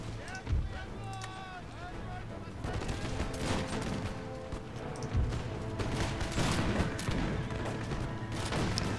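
Massed infantry musket volleys crackle and rumble through a battle in Empire: Total War, a siege with Russian forces, overlapping gunfire bursts repeating at irregular intervals over a dense, continuous din of battlefield noise and music.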